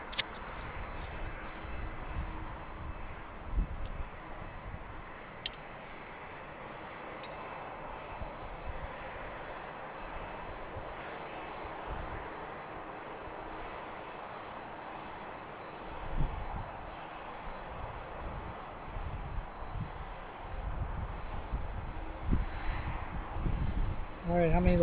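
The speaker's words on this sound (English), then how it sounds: "This will be our second heavy departure of the day." A heavy jet departs from a runway at BWI airport, a distant engine rumble that swells gradually toward the end, with people talking intermittently over it.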